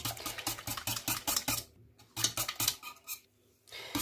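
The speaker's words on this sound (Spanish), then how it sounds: "Ahora lo vamos a batir muy bien." A whisk beats cornstarch, sugar and milk in a bowl for pastry cream, making quick rhythmic scraping strokes close by, briefly pausing twice before the brisk whisking resumes.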